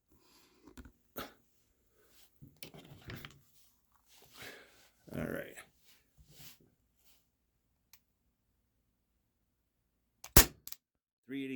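A Walther P38 4.5mm CO2 air pistol with blowback action fires a sharp, loud single crack near the end, amid quiet handling noises and brief speech.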